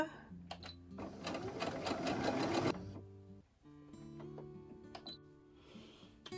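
Sewing machine stitching the V-neck of a sleeveless sweater: a loud burst of rapid, steady needle stitching up close, then quieter, intermittent whirring and clicks as the fabric is repositioned.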